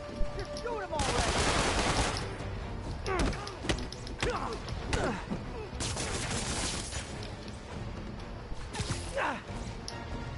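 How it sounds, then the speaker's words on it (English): Gunfire from the Spider-Man video game rattles out in loud, rapid bursts with sharp impacts and crashes. The shots repeat across the scene, and a few game voices are heard in the mix. "You're shooting him already."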